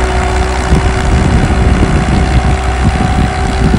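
A modified tractor engine drones loud and close during a village pulling challenge, a steady heavy hum with a sustained tonal whine and no pauses or talk.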